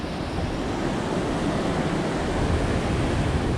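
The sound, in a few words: river flowing from the Khumbu Glacier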